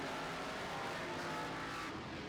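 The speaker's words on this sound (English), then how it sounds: "The 16 car of Gavin Paul finding his way into the second spot and making a push for the lead." Modified race cars roaring around a track during heat races, a steady loud engine drone from several cars close by, with no talk over it.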